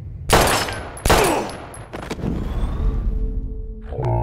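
Gunfire in Life is Strange: two sharp, loud shots about a second apart, then a couple of fainter cracks and a lingering rumble that fades into quieter noise.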